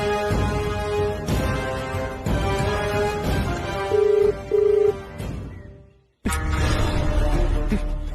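A telephone rings repeatedly without being answered, steady ringback tones with a couple of brief beeps, then a pause and a sudden burst of louder noise.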